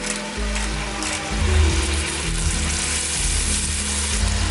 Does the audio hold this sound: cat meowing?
no